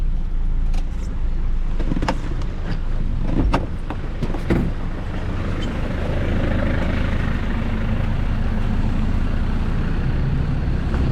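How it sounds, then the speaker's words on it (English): A Citroen Berlingo's engine rumbles nearby while driving, with sloshing and splashing bursts early on as it pushes through a green-lane water crossing in Wales, then a steady engine drone. "Let's see the old Citroen Berlingo come through."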